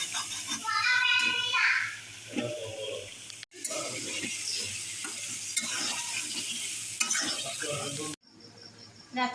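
Food stirred in a hot pan while it fries, a steady close sizzle with scraping and clinking of a utensil, a brief break partway through and a sharp cut near the end.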